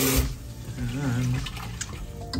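Basmati rice being washed under a running tap, water splashing and swishing through the grains at close range, with some voice in the background.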